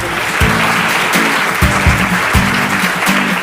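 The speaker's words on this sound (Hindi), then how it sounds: "जोरदार तालियां दे रहे हैं।" A studio audience on a Hindi quiz show claps steadily at a fairly loud level, with a rhythmic musical pattern pulsing beneath the applause.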